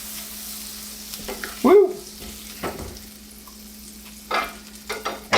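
A grilled cheese sandwich fries in butter in a pan, a soft steady sizzle with a few brief scraping bursts, and a short voiced exclamation partway through.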